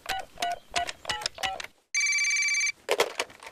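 A cartoon telephone rings in quick repeated electronic trills, followed by a short steady tone and then a final chirp, loud and close with no talk over it.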